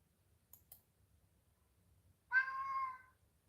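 A single drawn-out meow from a cat nearby, following a couple of faint clicks in an otherwise quiet room.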